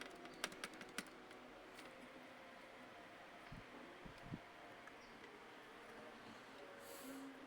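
Laptop keyboard typing on an Acer ES1-432, a few faint, quick clicking keystrokes scattered in a quiet room with low background hum.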